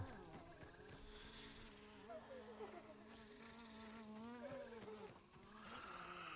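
A fly in the survival video game Grounded buzzes continuously and closely, its whine wavering up and down in pitch and holding at a steady level throughout.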